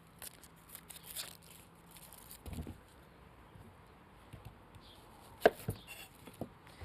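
A knife cutting a white onion into thick slices on a board: a few quiet, sparse chops and taps, one sharper thud standing out, in an otherwise hushed kitchen.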